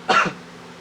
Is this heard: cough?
yes